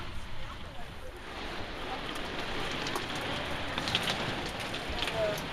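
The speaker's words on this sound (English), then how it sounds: "We got hail." Hail and heavy rain pound a camper during a violent 2011 flood storm in South Bismarck, North Dakota, a dense, constant clatter and hiss with sharper scattered impacts throughout.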